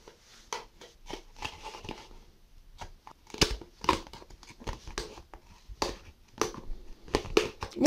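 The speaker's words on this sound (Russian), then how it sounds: "Разрезаю пополам и вырезаю донышко." Scissors or a blade cut through a thin plastic container, slicing it in half and cutting out the bottom, giving repeated close crinkling snips and crunches in an irregular rhythm with short pauses.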